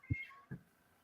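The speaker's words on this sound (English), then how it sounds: "Every time I move, Milo meows because he thinks I'm getting up" A pet cat meows twice indoors, two short, close calls a little under half a second apart, the first slightly louder.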